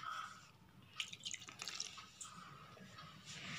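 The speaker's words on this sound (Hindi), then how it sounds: "अब हम इसमें थोड़ा थोड़ा पानी डाल के इसका डो रेडी करेंगे।" Water added little by little to besan puri dough in a home kitchen, heard as quiet, scattered drips and small splashes in the bowl, close and faint, with no talk.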